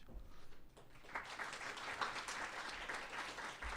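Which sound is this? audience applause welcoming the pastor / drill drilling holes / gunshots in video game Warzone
audience applause welcoming the pastor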